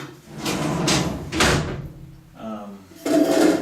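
A drawer on an all-steel workbench with a 50mm plywood top slides open on full-extension runners, a close rolling and rumbling slide with a knock, heard alongside speech.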